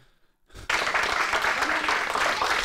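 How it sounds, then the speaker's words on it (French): A studio audience at a Miss Maghreb pageant show breaks into loud applause after a brief quiet moment, a dense, steady wall of clapping that carries on to the end. "Ça mérite pas autant d'applaudissements quand t'as rien à dire"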